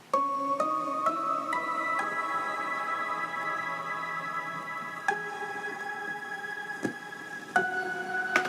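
Three layered synth instruments, including a moon harp, play together in the game Niko: sustained held notes with bright plucked attacks landing every second or so, steady and moderately soft, no voices.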